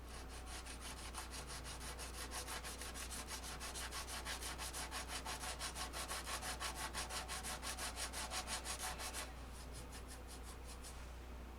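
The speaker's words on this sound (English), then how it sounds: "Now I'm gonna do some rough sanding with 220." Rapid rhythmic scratchy strokes of 220-grit sandpaper rubbing back and forth on a 1993 Taylor, close and steady, stopping abruptly near the end.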